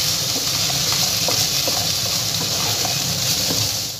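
Crushed ginger and onion sauté in a hot pan while cooking a Bengali katla fish curry, a steady, loud sizzle and hiss with faint spatters that stays even throughout.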